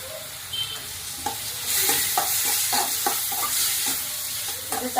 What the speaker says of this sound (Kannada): ಮೀಡಿಯಮ್ ಫ್ಲೇಮಲ್ಲಿ ಇಟ್ಬಿಟ್ಟು ಮಸಾಲೆ ಹಾಕಿ ಒಂದು 2 ನಿಮಿಷನೂ ಅಲ್ಲ, ಒಂದು 30-40 ಸೆಕೆಂಡ್ ಚೆನ್ನಾಗಿ ಹುರಿಬೇಕು ಅದನ್ನು